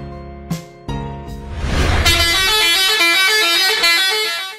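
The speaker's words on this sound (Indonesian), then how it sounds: "klakson sekunder bis-bis malam yang sedang melintas di jalan" Bus telolet horn, the melodic secondary horn of Indonesian night buses passing on a road: short honks, then a loud, sustained multi-tone musical blast over engine noise.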